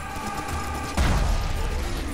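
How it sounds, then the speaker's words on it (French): A big explosion in the first-person shooter Serious Sam 3 BFE, a sudden booming blast landing midway that swells into a dense rumbling wash over steady game noise. "Oh, cette grosse explosion."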